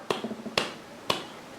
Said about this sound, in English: clicking my fingers